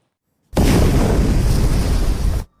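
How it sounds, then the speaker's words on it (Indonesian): A car bomb goes off in an Indian film scene, one loud sustained roaring blast that erupts suddenly and rumbles on for about two seconds before cutting off. "dibunuh dengan bom di mobilnya sendiri"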